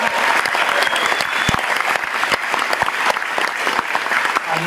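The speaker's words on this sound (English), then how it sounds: "can we please give a round of applause to our servicemen and women?" A concert-hall audience at a symphony tribute show gives sustained, dense applause for servicemen and women, loud and continuous with scattered sharper claps throughout.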